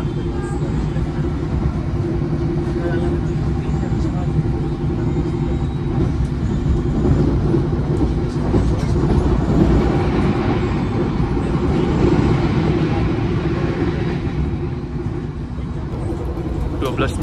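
The Fajar Utama Solo passenger train runs along the rails at roughly 90 km/h, heard from inside the carriage as a steady, loud low rumble and hum that holds through the whole stretch without clear breaks.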